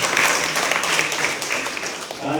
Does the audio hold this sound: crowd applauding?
yes